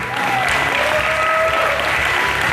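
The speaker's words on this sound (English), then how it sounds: "Can we give them an applause" A crowd at a hotel event in Dubai breaks into loud, close applause, a continuous wash of clapping with no pauses.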